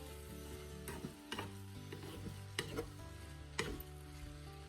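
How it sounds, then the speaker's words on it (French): Tricolour peppers fry in olive oil in a pan under a quiet, steady sizzle, with periodic scrapes and knocks of a spoon as they are stirred. "On continue de bien mélanger tout cela."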